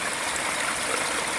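A creek flows steadily, its broadband rushing and trickling water sound continuous and close throughout, with no voices.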